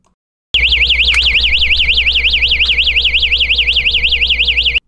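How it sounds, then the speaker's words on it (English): A Bierer AV40 non-contact voltage indicator sensing an overhead conductor sounds a loud, continuous warbling electronic alarm. It starts abruptly and sweeps rapidly up and down in pitch for about four seconds with no talking. "the AV40 will begin to alarm beyond minimum approach distance for the potential level being"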